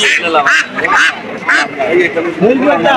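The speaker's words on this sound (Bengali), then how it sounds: "চীনা হাঁস" Chinese ducks at a busy Bangladeshi village market quack and honk repeatedly up close, mixed with people talking and general crowd babble.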